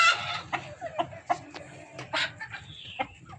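Kappiri chickens on a farm cluck in a series of short, close, irregular calls over about three seconds, with soft rustling and background farmyard noise underneath.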